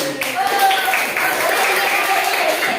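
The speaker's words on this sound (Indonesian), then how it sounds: "Tepuk tangan dulu" Classroom of fifth-grade pupils clapping for the winning group in a maths lesson, steady dense applause throughout with children's voices chattering over it.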